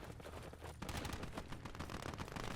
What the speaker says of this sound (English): Some shooting from the front left.